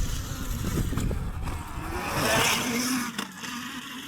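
A dirt bike with wide tires rides along a Jamaican alley, its engine droning and revving steadily close by, swelling midway and dipping briefly near the end.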